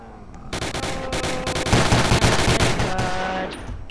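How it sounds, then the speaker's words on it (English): Thompson submachine gun fires in a Roblox game, rapid dense bursts running almost continuously for several seconds, loud and close, with game sounds mixed in. "The recoil on this Thompson is ridiculous."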